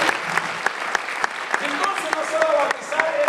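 Congregation in a church clapping steadily, with some sharper individual claps standing out above the continuous wash and a voice mixed in partway through.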